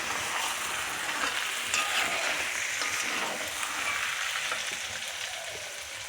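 Meat being stir-fried for kosha mangsho at a home picnic, a steady close sizzle with scraping stirs throughout, no talk.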